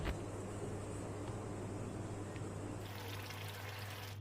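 Water pours steadily into a thin rohu fish curry with ridge gourd and potato as it cooks, a close, continuous rushing splash that shifts in tone partway through.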